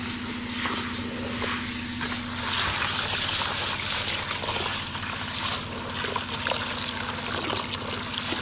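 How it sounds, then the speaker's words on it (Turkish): Water sloshing and trickling as beans are rinsed and stirred by hand, with light rattling and splashing throughout, close by. "Şimdi suyla yıkayacağız güzelce."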